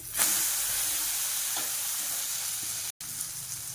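A curry dosa topped with curry masala and half a spoon of butter sizzles steadily on a hot pan after being flipped, a close, continuous frying hiss with a brief break near the end.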